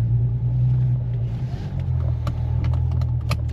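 Infiniti G37 sedan with a six-speed manual transmission driving, its engine giving a steady, low, droning rumble heard from inside the cabin, with a few faint clicks near the end and no talk.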